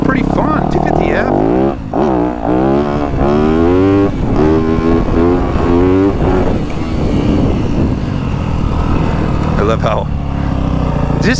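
A 2024 Yamaha YZ250F dirt bike engine roars continuously while riding, loud and close, with repeated revving rises and falls as the rider shifts and accelerates.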